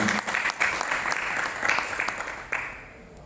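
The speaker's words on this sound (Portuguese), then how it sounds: "os aplausos ao Edilson" Audience at a community event in Cunha applauds Edilson, a geologist being welcomed, with a steady round of clapping from a moderate crowd that swells slightly and then tapers off near the end.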